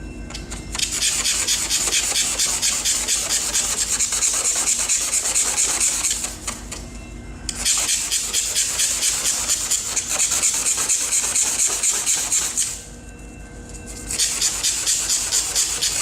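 Polyurethane spray foam overspray being scraped off a car hood: a steady, close, gritty rubbing rasp that runs continuously, dropping out briefly twice before resuming, with no talk.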